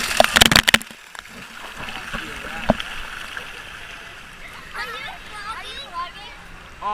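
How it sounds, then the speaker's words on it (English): A waterfall at the Blizzard Beach water park rushes and splashes steadily in the background, after a few sharp clattering knocks, while children and adults talk over the water. "There we go. The waterfall."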